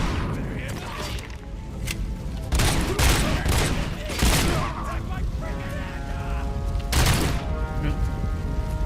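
SMG fire in the video game RoboCop: Rogue City comes in loud bursts of rapid shots with heavy booming impacts, close and dense, while someone talks over it.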